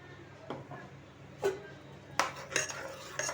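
A spoon clinks and scrapes around a pot of bitter gourd pitlay curry with turmeric, asafoetida and ground chili-coriander paste, making a few sharp metallic knocks and soft stirring sounds against a quiet kitchen background.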